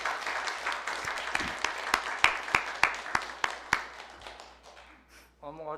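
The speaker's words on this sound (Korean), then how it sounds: "박수하겠습니다" A church congregation claps in a run of distinct, fairly sharp hand claps at a steady, loose rhythm, thinning out before a voice begins speaking at the end.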